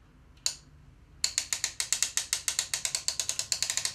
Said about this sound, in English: We're going to listen for the ratchet to click.